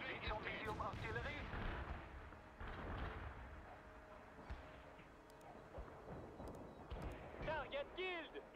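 Artillery fire in the video game World in Conflict booms in heavy, rumbling bursts, mixed with clipped radio-style voices that talk over the barrage.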